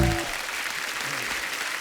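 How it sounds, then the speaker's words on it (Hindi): Studio audience applause from a comedy talk show, a broad wash of clapping that starts with a brief tail of a voice or music, then holds steady and fairly loud to the end. "जोरदार तालियां होनी चाहिए यार,"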